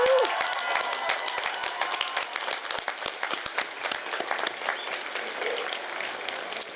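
A commencement audience applauding faculty and staff, a dense sustained wash of many hands clapping in a large hall, loud and even throughout.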